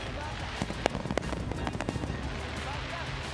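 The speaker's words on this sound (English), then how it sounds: "the fireworks go off on Republic Day here in Bhubaneswar" Fireworks at the Hero Hockey India League 2026 final celebration on Republic Day in Bhubaneswar crackle and pop in a quick scattered burst over a dense crowd roar, with commentary voices underneath.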